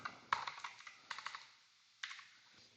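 Quiet computer keyboard typing in short bursts of clicks with pauses between them, close by with no talking.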